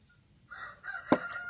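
A rooster crowing outdoors in a rural setting, one rising crow of about a second with a sharp accent partway through, moderately distant over quiet background.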